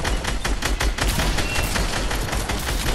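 Dense, continuous gunfire from a video game, with rapid shots packed close together at steady loudness throughout and no clearly separated single sniper crack.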